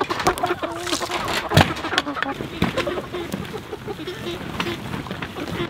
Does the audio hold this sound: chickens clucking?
yes